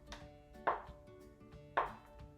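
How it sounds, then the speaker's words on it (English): Knife slicing a block of tofu into small cubes on a cutting board, two crisp, quiet chops about a second apart over a low background hum, no voices. "we're going to take a 1/4 of a block of tofu, and we're just going to slice it into small chunks"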